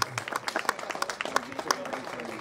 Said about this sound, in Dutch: En het applaus van het publiek